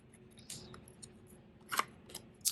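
Scissors snip the white paper border off a journal page, giving quiet, crisp cuts at uneven intervals, close up in a calm room with no speech.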